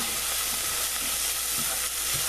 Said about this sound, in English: I'm gonna put also a little bit of garlic, organic garlic.